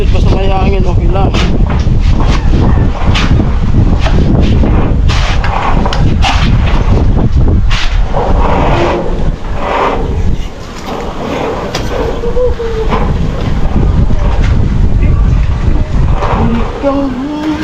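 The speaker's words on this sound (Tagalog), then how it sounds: "Sarap ng hangin." Strong wind blowing outdoors on a hot day, with heavy, continuous buffeting and rumbling against the microphone, loud and near, with voices and scattered knocks mixed into the gusts.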